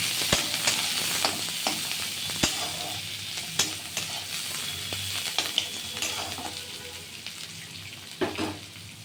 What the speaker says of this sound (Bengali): এবার পেঁয়াজ দিয়ে দিলাম পেঁয়াজ দিয়ে দিলাম আর কাঁচা লঙ্কা দিয়ে দিলাম একটু ভাজা ভাজা করব